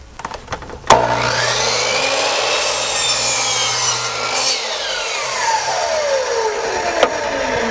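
A saw cuts through a scrap wooden board along a marked line for a dowel bathroom organizer. A sharp start gives way to a loud, continuous whining cut with a shifting pitch, close by and without talk.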